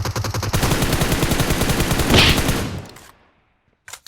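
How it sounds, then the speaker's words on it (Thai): Scoped rifle fire in PUBG Mobile on the snowy Vikendi map, a dense run of rapid, loud shots cracking in steady rhythm for about two and a half seconds, then a fading tail, near silence and a brief final burst. "เราก็สามารถเล็งแล้วก็ขึ้นสโคปยิงได้เลยนะครับ"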